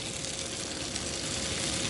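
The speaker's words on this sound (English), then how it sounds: "You want to hear that sizzle." Hanukkah latkes pan frying in hot canola oil, a steady dense sizzle that holds at an even level throughout without any talk.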